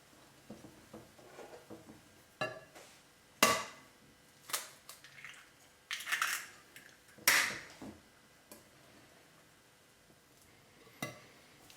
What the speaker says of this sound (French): On va casser le premier œuf. Et on commence à mélanger.